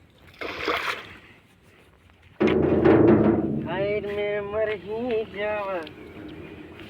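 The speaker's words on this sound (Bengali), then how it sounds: "দেখছো বন্ধুরা কেমন করে নৌকা চালাতে হয়" Oars stroke and splash in the water as a small rowboat is paddled, with a burst of splashing early on and later rhythmic dipping sounds, while people talk close by throughout.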